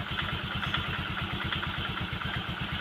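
A Honda Vario scooter with a sputtering fault runs close by, its engine pulsing in an even, rapid low throb with a light mechanical clatter on top, steady throughout and without speech.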